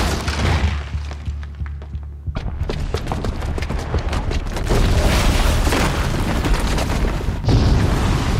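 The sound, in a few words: bomb booby trap exploding in video game Horizon Zero Dawn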